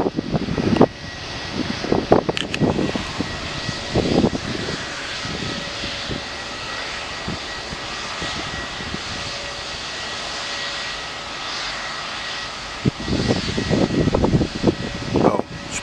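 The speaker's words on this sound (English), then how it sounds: "EasyJet Pisa. Enjoy the takeoff," An EasyJet jet airliner takes off at Manchester Airport, its engines giving a loud, sustained roar, with sharper gusty thumps near the start and end.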